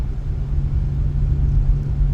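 Low steady cabin drone of a Dodge Challenger cruising in sixth gear with faint differential noise, a constant rumbling hum without speech.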